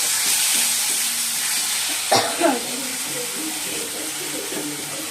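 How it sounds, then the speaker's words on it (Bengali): Potatoes tipped into a pan of sizzling, braised meat in a home kitchen: a steady frying hiss, then a sharp clattering burst as the pieces drop in, followed by renewed sizzling and scraping stirs. "এই যে বন্ধুরা মাংসটা কষানো হয়ে গেছে, এবার আলুগুলো দিয়ে দেবো"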